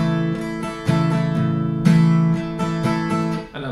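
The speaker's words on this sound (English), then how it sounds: "So the first strum that we're going to be using in the verses sounds like this." Acoustic guitar strummed in the verse pattern for a song, a loud, close run of down and up strokes with ringing chords and no talk.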